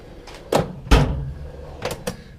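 A drawer on a mechanic's tool chest slides open with a couple of sharp metal thumps and rattles, close by, followed by lighter clicks as contents shift.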